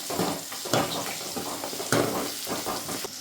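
Small onions with green chillies and curry leaves sautéing in oil after mustard seeds, urad dal and fenugreek have popped, a close steady sizzle broken by scraping stirring strokes.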